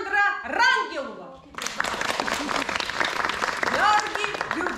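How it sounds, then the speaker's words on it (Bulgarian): An audience applauds after a children's theatre performance, a sudden sustained wash of many hands clapping, near and steady, following a spoken announcement. "Аплодисменти"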